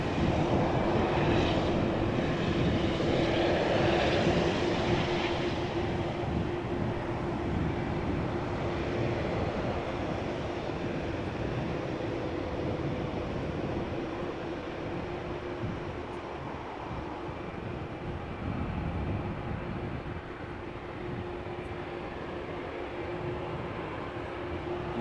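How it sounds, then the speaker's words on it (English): An Airbus A220 jet taking off from Amsterdam Schiphol Airport, a broad steady engine roar heard from a distance that slowly fades over the run. "The A220 left the ground on its way to Riga."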